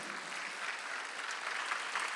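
Steady applause from a church congregation during a Sunday worship service, continuous clapping throughout with no pauses.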